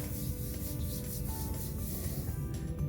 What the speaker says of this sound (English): Give it a good knuckle rub, get all those nice details.